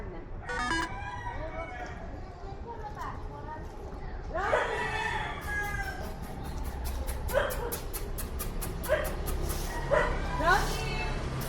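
A brown dog on a street barks and yips several times in short, spaced bursts that rise above the outdoor background, while people talk nearby.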